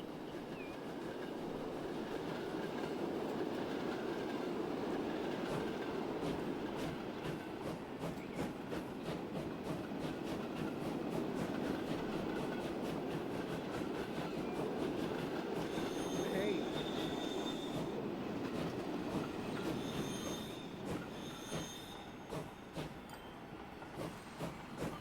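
Game-simulated train running on rails in Transport Fever 2, a steady continuous rumble of wheels and carriages with faint wheel squeal, constant and moderately loud throughout, easing slightly near the end.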